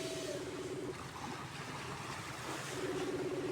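Sea waves wash steadily onto a beach in the early morning, a soft continuous surf with wind noise and a low hum, no voices.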